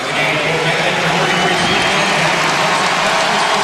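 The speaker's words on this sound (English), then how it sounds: "It's a big round of applause, but he's done." Steady, loud applause from a large crowd at a college basketball game, Kentucky at Vanderbilt, dense and continuous throughout, with a general murmur of voices mixed in.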